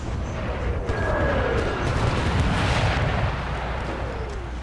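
Cannon round shot fired on a Civil War battlefield in a video game at Knoxville, giving a loud, sustained rumbling boom with scattered crackling bursts and no talk.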